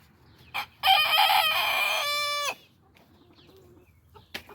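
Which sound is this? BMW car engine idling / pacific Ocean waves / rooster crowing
rooster crowing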